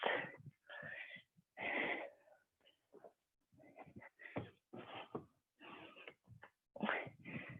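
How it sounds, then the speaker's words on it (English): Heavy, irregular panting from a trainer during a home boxing stance-and-guard workout, short breathy bursts separated by brief pauses, quiet and close. "I apologise if you can hear me heavy breathing."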